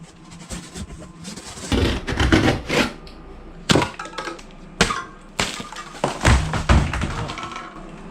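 Cardboard packaging for an e-bike beach cruiser is ripped and torn open by hand in loud, irregular bursts of tearing and thumping, with short pauses between pulls.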